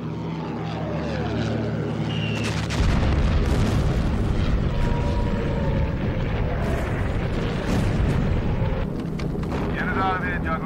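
A bomb released from a bomber aircraft explodes as a heavy, rumbling boom that swells in partway through, riding over the steady drone of the aircraft's propeller engines, with voices speaking over the noise.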